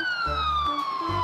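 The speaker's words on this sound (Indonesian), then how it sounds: "Aku sedang bawa mobil ambulans." A wailing ambulance siren from an Upin cartoon, a steady high tone gliding slowly downward with harmonics above, loud and continuous over low intermittent background rumbles.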